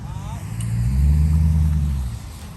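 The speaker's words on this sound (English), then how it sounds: "Try to give it a little bit more gas and let out the brake a little bit." A 2017 Dodge Durango engine revving under load as all-wheel drive strains to pull the car forward, a loud low rumble that swells in the middle and eases off, close by, with a voice briefly over it.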